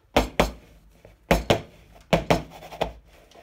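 A baked sponge cake being turned out of its tin onto a plate, heard as three pairs of sharp, close knocks and taps of pan and plate, evenly spaced with short pauses between.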